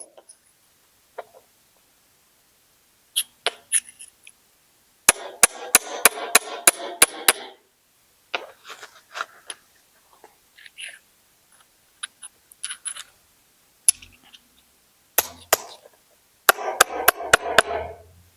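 Flint being trimmed and worked by knapping, sharp clicking and tapping strikes in scattered bursts, some rapid runs of several knocks, close and crisp against quiet pauses.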